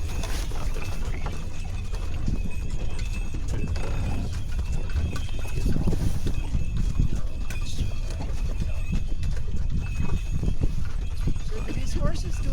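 Horse hooves clip-clop rhythmically over a constant creaking, rattling sound of the sleigh they pull on a winter ranch, with people talking intermittently throughout.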